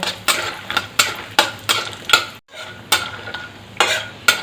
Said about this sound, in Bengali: এটাকে একটু লাল করে ভেজে নেব